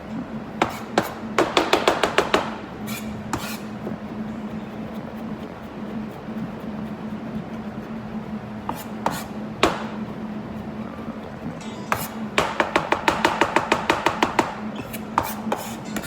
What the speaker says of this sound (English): ginger. I'm gonna go ahead and chop that up